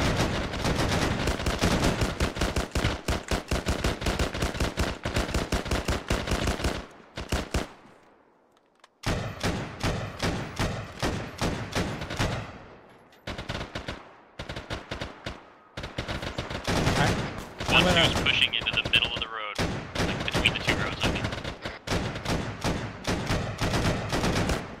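Sustained bursts of machine-gun fire in a military shooter game, dense rapid volleys with brief pauses, loud and close, some distant shots mixed in.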